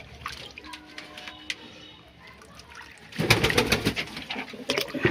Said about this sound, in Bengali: দেখো ঢক ঢক ঢক করে জল খাচ্ছে, জল পিয়াসা পেয়েছিল।